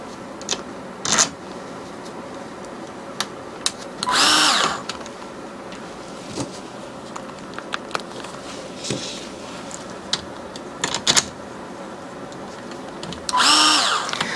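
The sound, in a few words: power drill with hex bit tightening bolts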